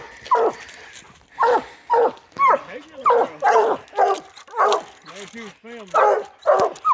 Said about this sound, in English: That right there is Kenny's female Gypsy and Hobo treed here with her.